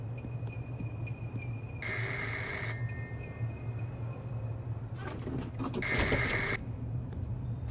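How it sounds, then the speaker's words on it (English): Telephone rings in a video game (Nightmare awakening story game), heard in two loud bursts of ringing about a second each, separated by a pause, over a steady low background hum. "Oh, is that a phone ringing?"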